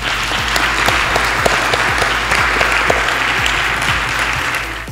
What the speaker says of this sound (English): I think you should give another applause to all of the winners